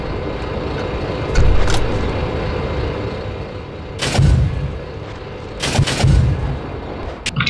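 Tank cannon fire in the Steel Beasts Pro PE combat simulator: several heavy booming shots at irregular intervals, loud and close, over a constant rumbling engine and battlefield background.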